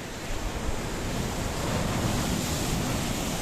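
Sea waves wash onto the coast beside a path at Paphos, Cyprus, in a steady broadband roar that swells gently, with wind buffeting the microphone and no voices.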